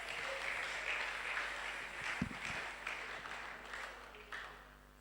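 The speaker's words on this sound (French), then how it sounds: "Sous vos acclamations, s'il vous plaît" A seated audience at a youth discussion forum applauds, a moderate, slightly distant patter of clapping with a couple of louder thumps near the middle, thinning out toward the end.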